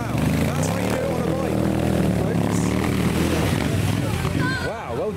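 Motorcycle riding through the water at Rufford Ford, a loud steady engine roar with splashing wash sustained for several seconds near the listener, then a rising and falling rev at the end, with a voice talking over it.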